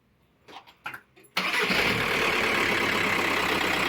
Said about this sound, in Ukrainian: Давай, заводь.